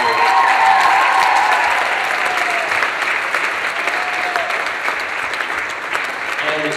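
Loud, sustained applause from a large theatre audience during the credits of a stage production of Mulan fills the whole stretch, a dense wash of clapping with a voice briefly audible beneath it.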